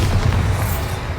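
The Bombarda spell in the game Hogwarts Legacy explodes as a loud, deep boom with rumbling low end, fading gradually over a second.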